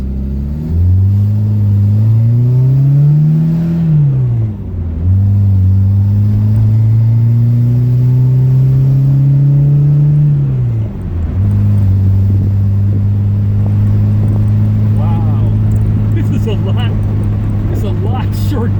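A car road-tested right after its transmission was reinstalled, the engine loud and close, revving up through the gears with clear pitch drops at each shift, and a voice heard at times over the drone.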